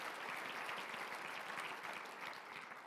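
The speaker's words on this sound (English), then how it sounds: "let's give Doris a round of applause for all she does for the community and love in action" A civic audience at a city address applauds steadily for about three seconds, a dense wash of many hands clapping at moderate distance with no voices over it.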